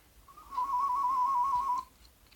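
A person tooth whistles a single sustained low tone with a slight wavering vibrato, clear and alone for about a second and a half.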